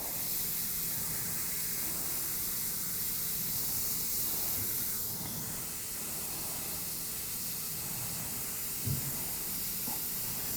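An airbrush sprays paint onto a biomechanical skull design in a steady, soft continuous hiss, with brief pauses and a faint click near the end and no talking.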